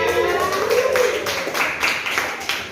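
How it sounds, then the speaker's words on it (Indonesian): Applause in a classroom: a quick, steady run of hand claps from students fills the room at close range, with a faint voice briefly heard near the start. "Ada tepuk tangan buat kita semuanya"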